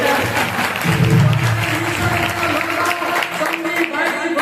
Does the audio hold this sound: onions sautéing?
no